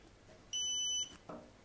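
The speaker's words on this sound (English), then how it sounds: "Those beeps let me know it's ready" A Creality Falcon 10W laser engraver gives a single steady electronic beep for about half a second, high-pitched and clear, followed by a short soft mechanical noise in a quiet room.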